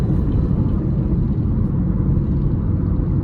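Cabin road noise inside a 2024 Buick Envista Preferred 1.2T while driving, a steady low rumble and tire whir, constant and even with no talking over it.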